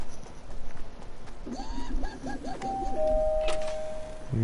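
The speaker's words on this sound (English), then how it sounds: "Just ring the doorbell." A doorbell ringing in the game Fortnite, a clear chiming tone sounding a few times over steady in-game background noise and footstep-like clopping.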